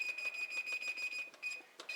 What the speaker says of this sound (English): And I set the timer for 20 minutes.